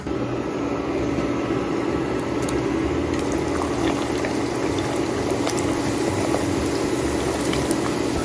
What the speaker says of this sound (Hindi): तो बस आप इस तरह करके पूरियों को फ्राई करते जाएं